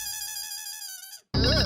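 Phone ringtone with a steady electronic harmonic tone that sounds loud and close for about a second, cuts to silence, then returns as a bright burst.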